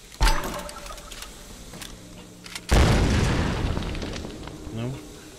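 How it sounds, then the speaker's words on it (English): A grenade launcher fires in Tomb Raider (2013), producing a sharp boom followed by a heavier explosive burst that fades into rumbling debris, heard alone with no talk. "What if I just launch a grenade at it?"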